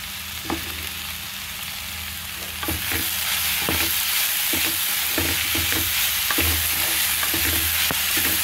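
Amaranth leaves (thotakura) stir-fry in a pan under a constant close sizzle, with repeated sharp scrapes and taps of a spatula getting louder partway through.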